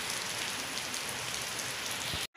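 Heavy rain pours steadily on surfaces outdoors with wind, a dense, loud, even hiss that runs continuously and then cuts off abruptly near the end.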